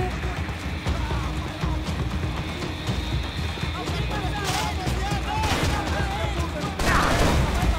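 Gunfire from the video game Max Payne 3, dense crackling bursts of shots and impacts running throughout at steady loudness, with game effects layered over a continuous busy background.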